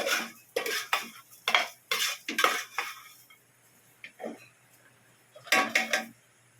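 A spoon stirs macaroni soup in a metal pot, clinking and scraping in quick bursts for about three seconds, then a pause and a few more close clatters, with no talking.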